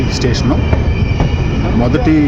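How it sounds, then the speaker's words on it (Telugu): The Andaman Express pulls in at Sevagram station onto platform 3, a loud steady rumble with squealing wheels and faint clacks, and a voice talks. "ఇప్పుడు ప్రస్తుతం మన బండి అయితే 3వ నెంబర్ ప్లాట్ఫారం మీదకి అయితే వచ్చింది."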